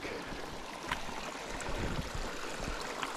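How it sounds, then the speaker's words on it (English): A creek flows steadily on a Hocking Hills hiking trail near Cantwell Cliffs, a continuous soft gurgle and trickle of water heard alone and close by, with no talking. "Crossing another creek."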